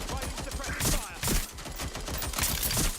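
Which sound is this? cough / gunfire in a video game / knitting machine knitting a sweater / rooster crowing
gunfire in a video game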